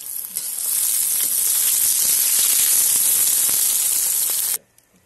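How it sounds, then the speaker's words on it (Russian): Onion frying in a kazan over a campfire after potatoes have been browned: a loud, close, continuous hiss and sizzle that cuts off abruptly near the end. "Отправляем лучок, обжариваем."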